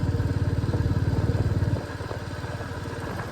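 Motorcycle engines drone on a mountain road in East Sikkim near Nathula Pass, a loud, steady pulsing rumble that fades slightly partway through as the bikes pass.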